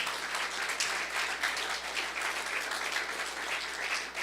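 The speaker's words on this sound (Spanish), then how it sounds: "Denle un aplauso fuerte al Señor Dios Todopoderoso." A church congregation gives loud, sustained applause during a service, the dense clapping rolling steadily and evenly throughout with a low hum in the background.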